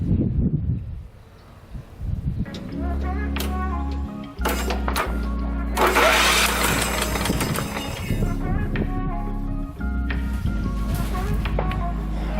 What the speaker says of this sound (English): that spun the motor over. Spun it over pretty good, actually.